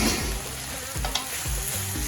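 Noodles are stir-fried with chicken in a pan, with a steady loud sizzle and scraping stirs running through the clip.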